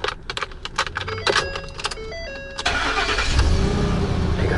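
A 2011 Ford F-250 Super Duty with a 6.2L V8 gasoline engine cranks with rapid starter whirring, catches and settles into a steady, loud idle close by.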